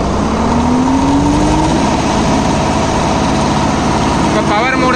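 A Swaraj 969 FE CRDI 4WD tractor engine runs at full RPM in eco mode, a loud, steady, close drone with a rising whine early on and no clear speech over it.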